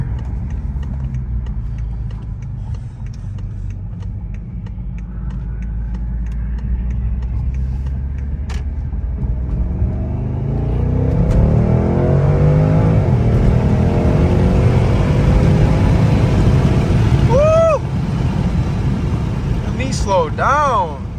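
A BMW M550i accelerates hard on a road at night, its engine note rising from a low drone into a strong climbing roar with gear-shift sweeps near the end, with people talking inside the car.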